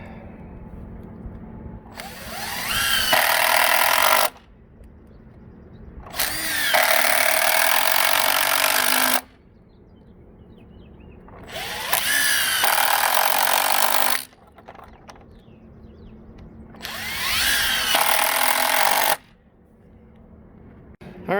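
A power drill drives 2 3/4 inch screws into wood for boat outdrive stands, four loud whining bursts of about two seconds each with quieter handling noise between them.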